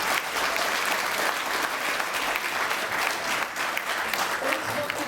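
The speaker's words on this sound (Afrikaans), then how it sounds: "Kom ons gee vir 'n lekker hande klap" Audience applauding warmly after a Christmas concert, dense continuous hand clapping filling the room for five seconds, with some voices mixed in.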